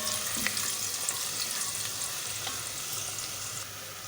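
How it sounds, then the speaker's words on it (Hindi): Thinly sliced onions sizzle steadily in hot oil in a pan, a dense continuous crackling hiss at moderate level throughout, with no one talking. "अब इसी गरम ऑयल में हम प्याज डाल देंगे"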